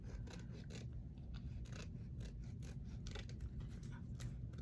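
Scissors trim traced paper pieces for an altered file folder craft, producing a faint, continuous rasping snip-and-scrape that runs unbroken for a few seconds without any speech.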